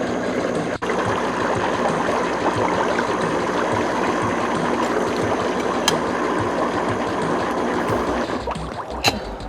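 Worm compost tea pours from a watering can over potted plants, a steady splashing hiss that runs without a break, close and fairly loud, with a few small clicks and knocks.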